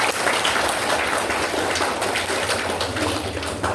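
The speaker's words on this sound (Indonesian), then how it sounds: "Tepuk tangan dulu." Loud, dense clapping fills the room at a bullying-awareness talk given by a village army liaison officer, a steady applause without pause and with no talk over it.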